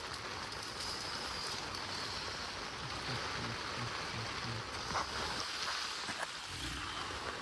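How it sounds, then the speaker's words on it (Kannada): Rain falls at a solo camping site as a continuous, even hiss with a few soft patters, moderately distant and steady throughout, with nobody talking. "ಮಳೆ ಚಾಲು ಆಗೈತೆ ನೋಡ್ರಿ"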